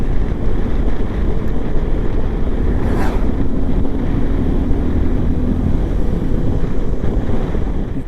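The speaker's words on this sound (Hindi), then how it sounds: "प्लेन्स पे कितनी तेज हवा चलती है यार।" Strong, steady wind roars across open high-altitude plains on the route toward Hanle, buffeting the microphone continuously for the whole stretch with a brief whooshing gust partway through and no voices.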